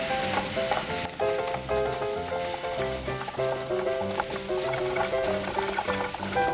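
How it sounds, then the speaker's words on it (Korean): Ginkgo nuts sizzle steadily in a hot pan with a couple of spoonfuls of water added, stirred continuously, with scraping and bubbling close up throughout. "중간에 물을 2큰술 정도 넣고 계속 저어주세요."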